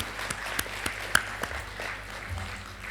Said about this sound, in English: Another round of applause for all our speakers and moderators and to all of you today.